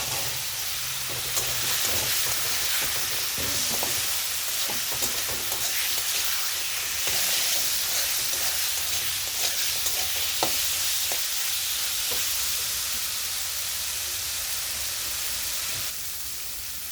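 Boiled jackfruit seeds fry in spice masala in a pan, giving a steady loud hiss and sizzle with scattered stirring scrapes and pops throughout, no voices.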